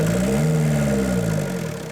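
A diesel engine with EGR cleaner being sprayed into it revs up and then eases down, its loud, close mid-range drone bending in pitch and tapering slightly toward the end, with no voices.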